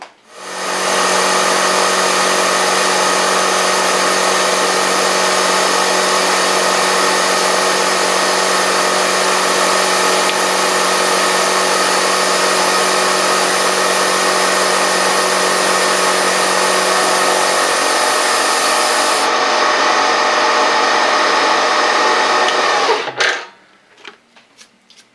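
A milling machine spindle running at very high RPM while cutting a machinist vise part gives a loud, steady whining hum with a constant tone for over twenty seconds, then stops abruptly near the end, with no talking.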